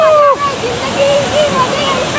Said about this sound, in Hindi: ये है दीक्षा वाटरफॉल, देखो बहुत औसम